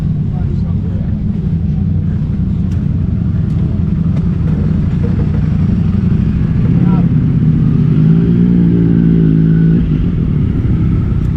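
A Matchless Model X motorcycle engine cranks and catches, a loud continuous low rumble throughout that rises and steadies toward the end, close to the listener.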